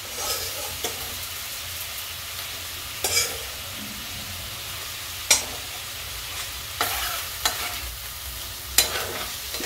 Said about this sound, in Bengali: পেঁপেগুলোকে আমি মশলার সঙ্গে একটু কষিয়ে দিচ্ছি।